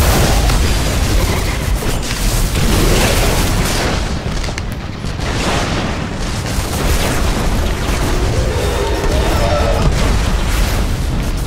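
Grenade explosions and heavy combat blasts from the video game Destiny, dense and loud, with booming bursts layered one on another throughout.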